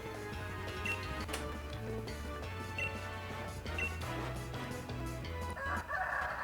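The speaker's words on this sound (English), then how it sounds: "I apologize to all y'all who hear that rooster outside." Faint rooster crowing from outside in the distance, mixed under steady background music.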